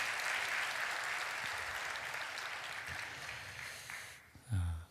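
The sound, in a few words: congregation applauding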